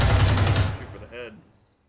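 Rapid gunfire from the tactical shooter game Zero Hour, a dense burst of shots in the first half-second that trails off, followed by a short tonal beep or voice-like sound, with talk nearby.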